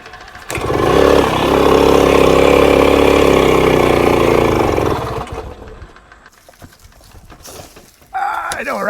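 A 1966 Bultaco Lobito motorcycle engine catches and runs loud and rough up close for about four seconds, then fades down and cuts out, followed by scattered handling noises and a voice.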